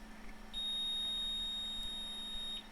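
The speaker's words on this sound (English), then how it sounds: "it does give a kind of a long beep there" A long, steady high-pitched electronic beep from an IBM 3180 Model 2 terminal speaker, holding a constant tone for about two seconds over a low background hum.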